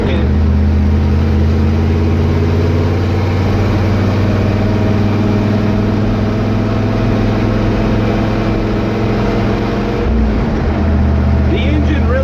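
A Dodge W100 truck with a swapped-in carbureted 5.3 LS V8 drives at low speed while towing, its engine droning with a steady, loud, deep hum held at a constant pitch, dipping briefly near the end.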